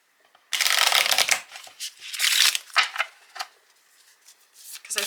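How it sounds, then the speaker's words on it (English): A Lenormand card deck is riffle shuffled up close, giving a loud burst of rapid flutter followed by several shorter riffles and bridging snaps, with no talking. "You can absolutely riffle shuffle this"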